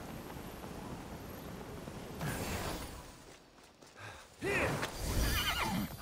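Horse in the video game Immortals Fenyx Rising neighs and whinnies in loud bursts late on, with clip-clopping hooves and a steady windy bed beneath.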